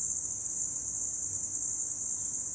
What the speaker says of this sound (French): Monsieur le grillon, tu pars où?